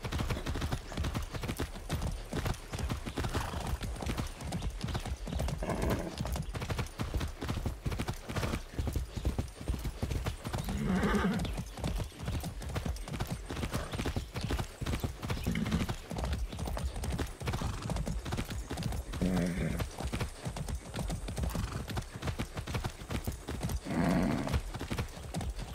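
Steady, rapid hoofbeats of a galloping horse in the video game Far Cry 6 continue throughout, with occasional faint bursts of voice or whinnying in the background.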